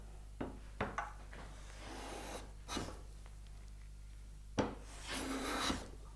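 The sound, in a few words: hand plane taking a shaving off wood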